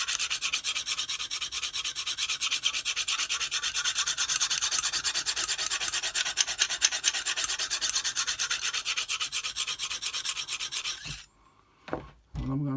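A knife blade is sharpened on a Lansky sharpening system stone with rapid, rhythmic rasping strokes, close and continuous for about eleven seconds before stopping, followed by a couple of brief scrapes.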